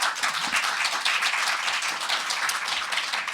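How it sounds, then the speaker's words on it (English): Brisk round of audience clapping for an author panel at a local book fair, fairly loud and continuous across the whole short stretch, with no talking. "Let's go ahead and give them a round of applause."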